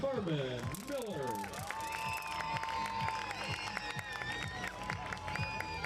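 At a high school football game, the crowd applauds and cheers for a senior being honored, a steady wash of clapping and cheering that runs under a prominent whistling and music-like tones throughout.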